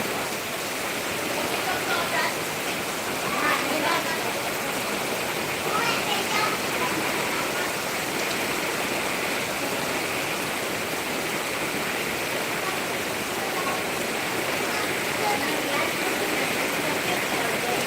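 Heavy unseasonal summer rain pours steadily in Keshod, a dense continuous hiss of downpour with no letup, close and even throughout.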